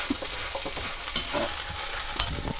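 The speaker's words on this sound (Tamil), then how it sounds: "உப்பை போட்டுட்டு இந்த மிளகா நல்லா அப்படி உடையிற மாதிரி நம்ம வந்து வறுக்கணும்" Red chillies and salt dry-roast in a pan for idli podi. Close, irregular stirring scrapes and rustles come with a couple of sharper clinks, over a light, steady crackle.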